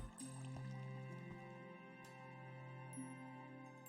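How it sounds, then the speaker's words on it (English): Water trickles and drips steadily inside an abandoned Minecraft mine, with occasional sharp drip plinks over a constant low murmur. The sound is quiet and continuous throughout. "There's the water that we were hearing upstairs."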